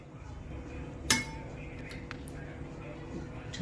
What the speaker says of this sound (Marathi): ताटामध्ये आपण वाटी आणि प्लेट ठेवूया